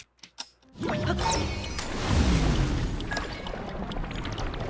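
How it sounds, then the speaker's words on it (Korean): Recall ability used on a water droplet in Zelda: Tears of the Kingdom, a low rumbling, rewinding game effect that swells after a few short clicks and holds steady with mechanical whirring throughout. "물방울에다가 리버레코를 걸어서 올라가라"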